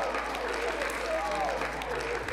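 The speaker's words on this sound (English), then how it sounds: "give him a round of applause." An audience applauds a new player with a continuous, moderately loud clatter of hands, while voices and a faint tonal sound mingle in the room.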